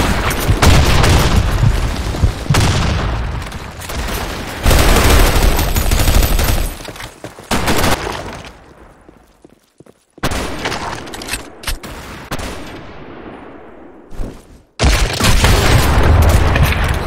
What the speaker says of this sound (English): Fire in the hole! Grenade!